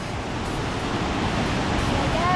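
Waterfall near a suspension bridge on an Austrian mountain trail, a steady broadband rush of falling water with wind, continuous and fairly loud throughout.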